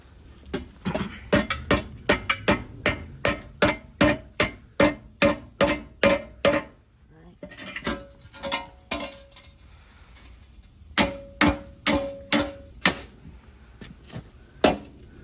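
A hammer strikes bushings into a BMW E36 M3 subframe in sharp metallic blows, fast regular runs of hits broken by short pauses, close and loud with no talk.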